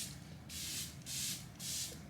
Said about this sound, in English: I'm gonna spray everything.